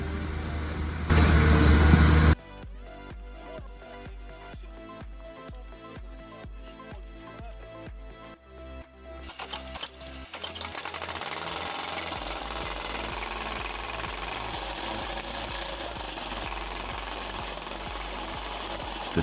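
A Soviet TD17 bulldozer's diesel engine knocks with a steady, rapid mechanical clatter that later broadens into a rougher, louder running drone, close by with no voices.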